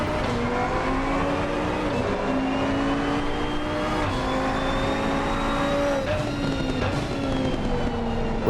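A KTM race car engine in Assetto Corsa Competizione, heard from the helmet cam at Barcelona, drones loud and steady with a sustained high whine and small pitch shifts as the car shifts gears. Nobody speaks over it.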